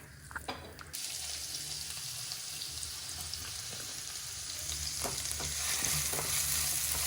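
A cinnamon stick and cumin sizzle steadily in hot oil left from frying paneer in a home kitchen, with a continuous frying hiss, occasional stirring scrapes and a faint running tap underneath.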